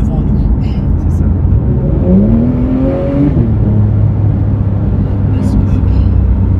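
A rear-mounted engine in a Porsche 911 GT3 Clubsport with 476 horsepower drones loudly inside the car while driving, rising in pitch midway and then settling, as people talk over it.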